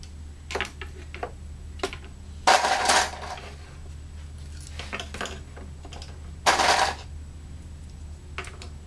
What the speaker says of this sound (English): I'll place some more clamps around the outside edge so I can get to them easier.